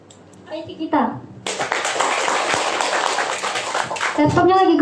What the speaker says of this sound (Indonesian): Tepuk tangan dulu dong untuk IT kita.